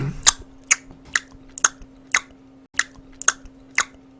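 Cartoon chewing of Korean snack-bar food: about nine crisp, wet bites in a steady rhythm, close and clear over a low constant hum, with no speech.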